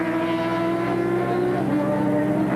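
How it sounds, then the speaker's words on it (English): A Honda endurance race motorcycle from the 1998 Bol d'Or comes into the pits with oil on its rear tyre, its engine droning loud and steady with a layered harmonic tone throughout. "This is the Honda finally getting into the pits."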